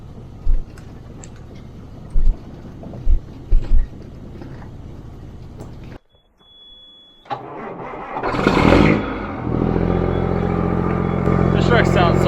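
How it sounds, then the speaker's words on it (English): A harvest truck's engine starts and revs up as it pulls away, rising into a loud, sustained roar after a quieter stretch with a few sharp knocks and faint background sounds. "This truck sounds so good when it takes off."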